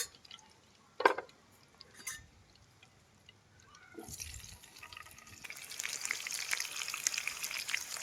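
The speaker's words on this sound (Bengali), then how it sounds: "তো এখন আমি যেটা ভাজবো সেটা হচ্ছে আলু" Potatoes frying in oil: the frying starts softly and builds into a steady, close sizzle with crackling, preceded by a few clanks.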